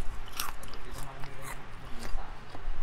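Crispy mala-flavored fried chilies crunched between the teeth, several loud, close bites and brittle crackles followed by steady chewing.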